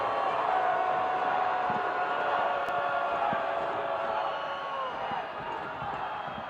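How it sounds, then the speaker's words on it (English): A sold-out stadium crowd roars steadily through a professional soccer match between Colorado Springs Switchbacks FC and Louisville City FC, a loud, sustained wash of cheering that eases slightly toward the end. "this sold-out crowd makes their voice heard"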